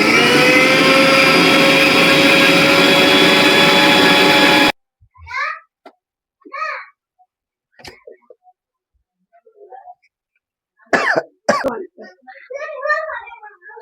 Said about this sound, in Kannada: ಇದನ್ನ ನುಣ್ಣಗೆ ರುಬ್ಕೊಳ್ಳೋಣ ಬನ್ನಿ.